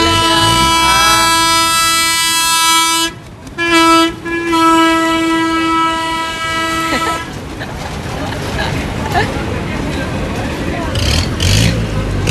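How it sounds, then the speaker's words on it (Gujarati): A loud, sustained electric train horn blares, then gives way to the heavy rumble and clatter of the Bhavnagar–Bandra Express rolling in close by at a station. "રેલગાડી આવી ગઈ છે"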